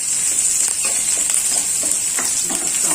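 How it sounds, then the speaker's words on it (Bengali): Onion frying in hot oil in a pan while being lightly browned, a steady, close sizzle with occasional soft stirring scrapes and no talking. "এখন আমি দিয়ে দিচ্ছি পেঁয়াজ, যে পেঁয়াজটা রেখেছিলাম দিয়ে দিচ্ছি। পেঁয়াজটা হালকা ভেজে নাও।"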